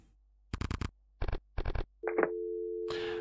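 Phone tones in a video game: several quick bursts of touch-tone dialing beeps, then a steady, clean dial tone held to the end, close and fairly loud with no talking.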